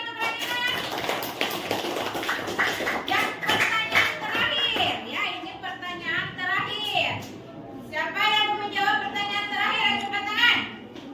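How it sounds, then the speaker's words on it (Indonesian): Schoolchildren in a classroom clap their hands together in a lively patter of claps, mixed with chatter and children's voices, followed by rhythmic chanted voices and more clapping. "Tepuk tangan"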